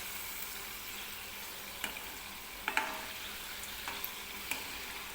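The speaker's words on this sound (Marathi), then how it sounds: "मीडियम गॅसवरती आपल्याला ही बालुशाही तळायची आहे" Balushahi pastries fry in hot oil over a medium gas flame, producing a steady, even sizzle broken by a few soft clinks and stirring sounds.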